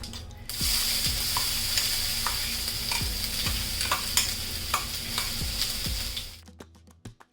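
Ground spice paste frying in hot oil with mustard seeds and curry leaves, a steady close sizzle with repeated stirring scrapes throughout, stopping near the end.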